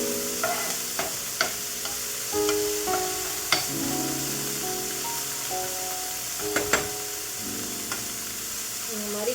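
Food fries in a pan with a continuous soft sizzle, punctuated by occasional clinks and scrapes of stirring, heard close and fairly quiet.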